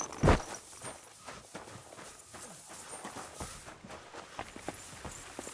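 Horse hooves in the Kingdom Come: Deliverance 2 video game, soft clip-clop steps at a moderate pace under quiet ambience, with a sharp thud near the start and little talk.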